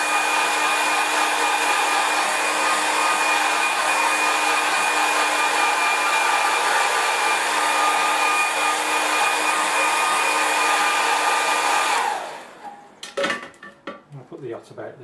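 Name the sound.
hair dryer drying watercolour paint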